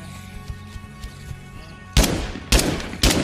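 Three loud, sharp gunshots in the zombie survival game State of Decay 2, spaced roughly half a second apart after a quieter stretch of faint in-game noise.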